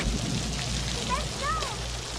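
Rain falls steadily at night in a scene from the 1988 film The Great Outdoors, a constant wet hiss. A voice briefly rises over it.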